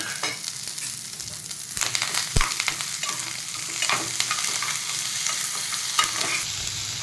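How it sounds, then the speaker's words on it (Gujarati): Curry leaves and tomatoes hit a hot pan and sizzle loudly and continuously, with crackling spatters and a sharp pop or two as the pan sizzles on. "હવે આ લીમડો એડ કરી દઈશું અને જોડે ટામેટાં પણ એડ કરી દેવાના."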